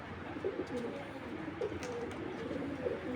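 Soft, low cooing of racing pigeons repeats several times over a steady background hum, fairly close but gentle, with no speech.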